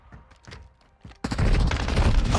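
Rapid gunfire erupts in a video game shooter, loud and sustained, breaking in after a second of quieter shuffling movement and scattered clicks.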